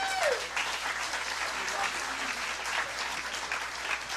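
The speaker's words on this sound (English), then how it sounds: "Give her a big round of applause." An audience at a live comedy and ventriloquist show applauds as a volunteer comes up on stage, a dense, steady roar of clapping with a brief voice at the start.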